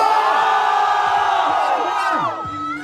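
A loud crowd at a Brazilian rap battle semifinal cheers, whoops and yells continuously, close and dense, with voices blending into a sustained roar that eases slightly at the end.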